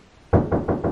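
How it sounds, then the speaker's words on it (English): Four firm knocks on a door, evenly spaced and close, loud and sharp against a quiet room. "So, someone knocked on my door."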